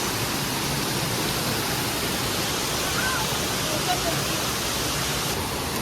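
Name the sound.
Rainbow Waterfall flowing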